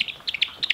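Young chicks chirping nearby: a quick run of high, thin peeps in a rapid, uneven sequence, with about eight short calls packed into under a second.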